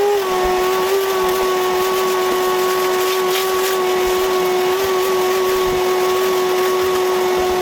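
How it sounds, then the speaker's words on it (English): A vacuum cleaner sucks acorns and debris out of a car engine bay, giving a steady close whine with a strong sustained tone and hiss throughout, with no talking. "We're gonna vacuum some of this up so it doesn't fall down in those holes"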